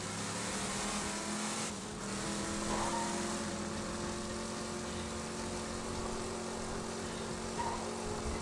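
A car driving in the video game Borderlands 2, heard as a steady engine drone with a constant rumbling hum that holds at an even level throughout, with no clear talking.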